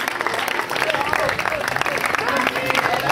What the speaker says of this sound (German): Fetten Applaus hast du gerade bekommen.